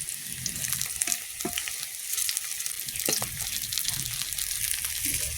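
Eggplant chops sizzle in hot oil, a steady crackling fry with occasional sharper pops and light stirring clinks, continuous and fairly close.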